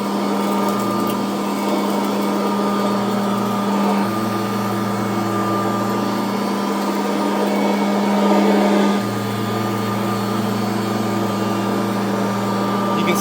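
A Kirby Heritage upright vacuum cleaner runs steadily with a loud motor whine and droning hum, and its pitch shifts a few times as the suction changes.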